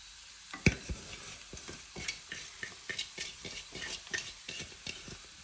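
Avalakki uppittu (flattened rice upma) being mixed in a pan over the stove, with a steady run of quick spatula scrapes and taps over a soft, constant sizzle.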